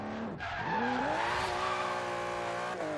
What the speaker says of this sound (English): This thing has no problem spinning those back tires.